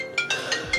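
A phone ringtone for an incoming call, sounding as a rapid series of four short bright electronic tone bursts, close and clear.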